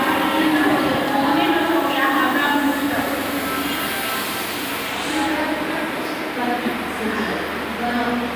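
The Anand Vihar–Jaynagar Garib Rath Express at a station platform: a dense, steady rumble of train and platform noise throughout, with a voice speaking over it.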